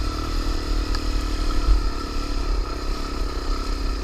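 A Suzuki DRZ400 dirt bike engine pulls hard up a sandy hill, a close, steady rough roar with a slight wavering throb and no talk.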